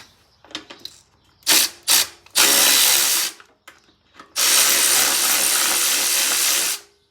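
Screws are removed from a 1983 Honda XR500 with a 10mm tool, giving quick ratcheting clicks followed by two long, loud bursts of power-tool whirring, close by and alone.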